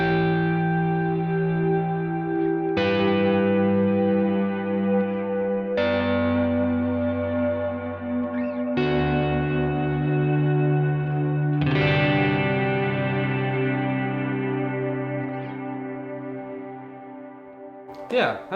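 Electric guitar played through a Kemper with an ambient reverb swell: five sustained chords, each struck cleanly and then blooming into a wash of lingering, shimmering tails that overlap and slowly fade.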